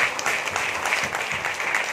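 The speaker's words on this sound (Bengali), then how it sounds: "সেই মহান ঈশ্বরের জন্য একটা জোরসে করতালি হয়ে যায়।" Applause from a church congregation praising God, a steady dense clapping wash lasting the whole moment, fairly loud and without any talk over it.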